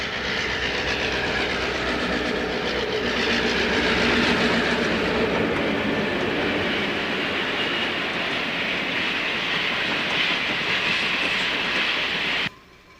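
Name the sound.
passenger train The Admiral arriving in Chicago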